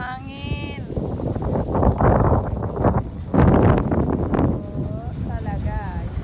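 Wind near the Chreav waterfall in Kampong Speu, Cambodia, buffets the microphone in loud, uneven gusts, while people talk nearby.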